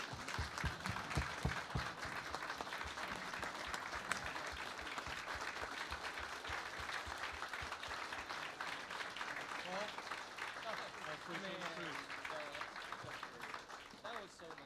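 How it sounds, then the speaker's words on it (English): A crowd at a Georgia 2nd District congressional candidate forum claps steadily for a slate of Republican candidates, a continuous wash of moderate applause with some voices murmuring underneath. "please join me in giving a round of applause to this wonderful slate"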